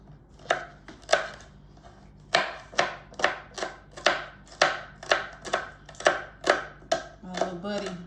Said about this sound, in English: I'm only cutting up a half of it because it's so strong